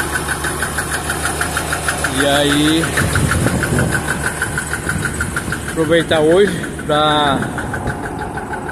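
A Massey Ferguson 95x tractor's diesel engine idles with a steady knocking chug throughout, while someone talks over it nearby.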